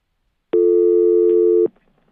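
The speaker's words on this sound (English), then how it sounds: "phone ringing" A single steady electronic telephone tone sounds for about a second in a broadcast studio, loud and clean, then cuts off abruptly.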